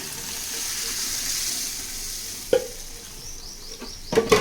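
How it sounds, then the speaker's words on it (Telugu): Onions sizzle in hot oil for a tomato dal tempering, a continuous steady frying hiss under occasional sharp clinks and scrapes of a spoon stirring the pan near the end. "కొంచెం వేగాక పప్పు వేసేస్తే కొంచెం వేగాలి ఉల్లిపాయలు"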